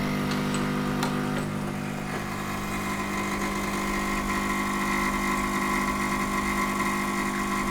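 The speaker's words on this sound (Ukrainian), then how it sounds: "Подивимося, як кава наша буде варитися." A coffee machine runs while brewing Arabica, giving a steady mechanical hum and vibration with a few faint clicks near the start, constant and fairly loud throughout.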